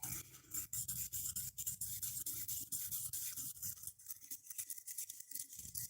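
Opals are sanded by hand on 1,000 grit abrasive, a close, continuous gritty scrubbing with rapid back-and-forth strokes and short pauses, alone with no talking.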